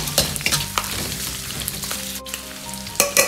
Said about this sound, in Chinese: 然后再放入瘦肉片盐炒几下炒出香味